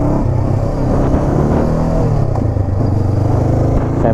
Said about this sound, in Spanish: Ya veis la fuerza que tiene la moto de respuesta, que me ha tirado el cuerpo para atrás.